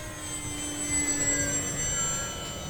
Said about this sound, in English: I'll fly it in a little lower for us.